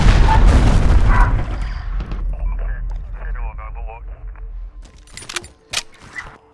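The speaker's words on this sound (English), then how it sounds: "Allied cruise missile away." Cruise missile strike in Call of Duty: Modern Warfare, opening with a loud, heavy booming blast that rolls and fades over about two seconds, followed by radio-like voice chatter and a few sharp clicks and bangs.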